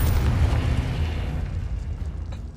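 Confringo spell explosion in Hogwarts Legacy, a heavy booming blast with deep rumble that fades out over about two seconds, loud and alone.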